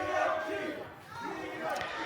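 A wrestling crowd at an All Class Independent Wrestling show keeps up a steady rallying roar, with voices rising early, dipping briefly and swelling again.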